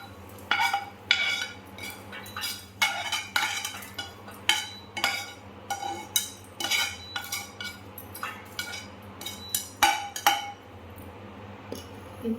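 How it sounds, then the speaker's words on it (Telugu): Fried guava being moved into another bowl: a series of close metallic clinks and scrapes of a spoon against cookware, in irregular bursts with no talking. "బాగా ఫ్రై అయిన దీన్ని తీసుకొని వేరే బౌల్లోకి ట్రాన్స్ఫర్ చేసుకోవాలండి."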